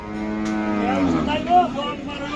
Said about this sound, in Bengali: পাড়াগ্রাম হাটে আসলে প্রচুর গরু উঠে